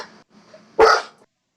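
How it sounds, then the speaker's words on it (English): A dog gives one sharp, loud bark close by, after a few faint whimpering sounds, in an indoor room. "Sorry, that's my dog."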